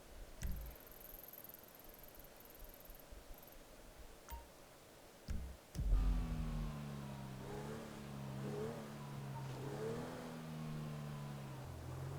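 A car in GTA V starting up and accelerating, engine revving through gear changes at moderate volume after a few quiet clicks and thuds.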